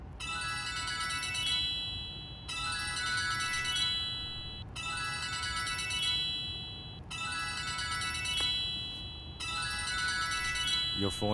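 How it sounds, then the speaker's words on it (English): A mobile phone ringtone repeats a bright electronic melody in five regular bursts about two seconds long with short gaps, fairly close, over a low background murmur. "Your phone is ringing."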